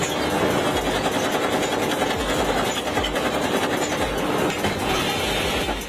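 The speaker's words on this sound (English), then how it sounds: "This machine produces sanding discs." An automated machine producing sanding discs from adhesive and sandpaper runs steadily and loudly, a dense continuous mechanical clatter with rapid rhythmic ticking and no pauses.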